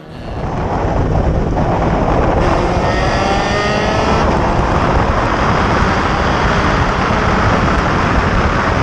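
Vintage race cars, an Elva, a Triumph Spitfire and a Lotus, roar at full throttle around Virginia International Raceway during an SVRA event, with a loud, continuous blend of engines close by and no pauses.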